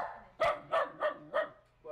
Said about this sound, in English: She's kind of chasing them and barking with them